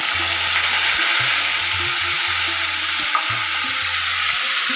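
Onion paste hits hot mustard oil already holding bay leaf, dried red chili, cinnamon, cardamom and cumin, giving a loud, steady sizzle with low rhythmic pan rumbles throughout and no talking.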